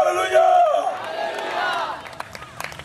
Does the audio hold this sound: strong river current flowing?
no